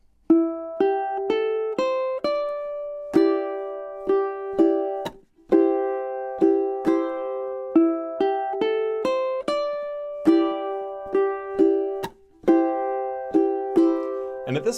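Ukulele playing a chorus: bright, close plucked chords and melody notes in a steady repeating pattern, with short pauses between phrases and no voice.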